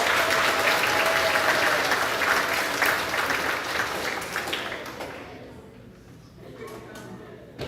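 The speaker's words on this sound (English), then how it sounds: "Please give them a round of applause." Audience applause at a grades 4–6 school awards ceremony, loud sustained clapping from a crowd that gradually fades out over several seconds.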